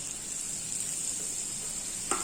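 Three spoonfuls of butter melting in a pan for homemade bread rolls, giving a steady, close sizzle with a brief clink near the end.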